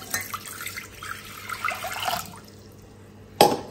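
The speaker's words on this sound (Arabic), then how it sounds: "غادي نديروا هذه الماء ديالنا" Water pours into a saucepan while churros are being made, a steady splashing stream lasting about two seconds and fading out, followed by a brief sharp clink near the end.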